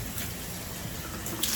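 Hot water runs steadily from a tap at a sink, a continuous close, even rush of liquid with no talking.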